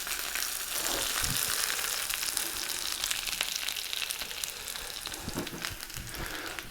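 Onions caramelising in a hot pan on a hob ring give a steady close sizzle and crackle, with occasional sharper pops and stirring scrapes, no voices present.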